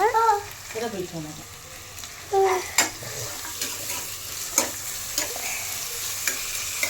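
Sautéing for biryani in a pan, a steady sizzle with scraping stirs and a few sharp utensil clicks, while a voice speaks briefly near the start.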